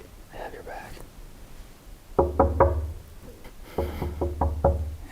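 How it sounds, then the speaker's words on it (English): Two bursts of three to four sharp knocks on a door in an abandoned building, loud and close, with soft whispering before and between them. "I have to knock."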